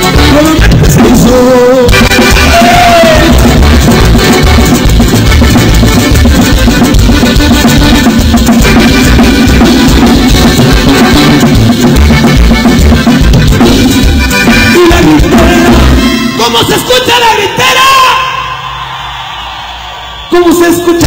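A loud crowd yells and shouts continuously over loud music at a Mexican norteño fiesta, with voices blending in a dense roar before it cuts off near the end.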